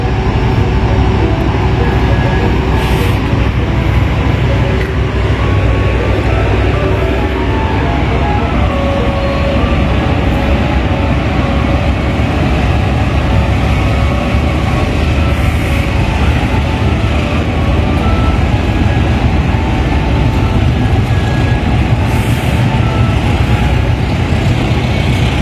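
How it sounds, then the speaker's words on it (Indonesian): Lodaya extra passenger train departing Tasikmalaya station, a loud steady rumble of engine and rolling carriages with faint tonal hums, continuous throughout. "kereta api Lodaya daya tambahan diberangkatkan dari stasiun Tasikmalaya"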